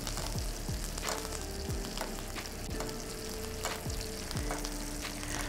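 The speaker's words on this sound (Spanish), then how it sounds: "Prácticamente es un frito con mantequilla." Fish frying in hot butter with thyme in a pan, a steady close sizzle with intermittent spatters and pops throughout, no talking.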